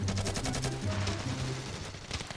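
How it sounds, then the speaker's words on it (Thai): Gunfire from Johnny Silverhand's gun from Cyberpunk, modded into the video game Ravenfield, comes as loud, rapid repeated shots in quick succession, then slows to a few scattered blasts. "มาตอนนี้ผมอยู่กับปืน อะไรเนี่ยอ่ใครที่เล่นไซเบอร์พังก็น่าจะรู้จักอยู่มั้ง ปืนของจอห์นนี่ซีเบอร์แฮนมั้ง"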